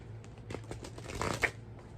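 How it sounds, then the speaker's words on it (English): Quick riffling card shuffles, a run of soft papery flutters and snaps, close and moderately loud over a faint low hum. "Let's start with shuffling."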